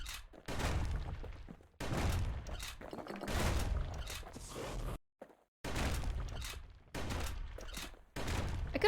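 Musket firing at turrets in the action video game Bastion, a series of heavy blasts in roughly one-second bursts with brief gaps between them, punchy and loud, with impact thuds and a short silent pause midway.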